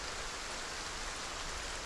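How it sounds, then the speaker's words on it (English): Steady rain falls in a survival video game, a dense even hiss of drops on surfaces with no let-up and no voices. "I need to get her out of the rain."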